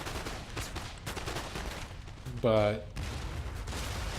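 Musket volleys in a Napoleon: Total War multiplayer battle on Prussian hills between British and French armies: a dense, continuous crackle of distant gunfire, with a brief spoken word partway through.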